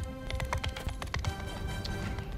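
Horse hooves in the medieval combat game Mount & Blade II: Bannerlord clop steadily at a trot, fairly quiet and up close, over a soft ambient game backdrop with a brief whinny-like tone.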